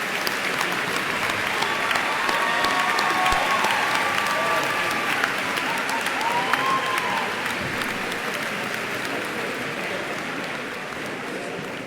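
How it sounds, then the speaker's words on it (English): A commencement audience applauds military members and their families, a steady, dense wash of many hands clapping across a large crowd, sustained throughout with faint voices mixed in. "give you a well-deserved round of applause"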